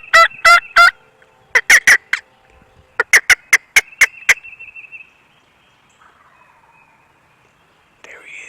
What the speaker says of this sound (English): heard a turkey gobble